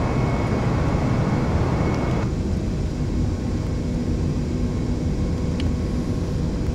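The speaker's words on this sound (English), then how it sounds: "So you're going to be taking off now." Airplane engine roaring steadily at full throttle during takeoff in a flight simulator game, a loud continuous broadband drone that shifts in tone partway through, with no talking.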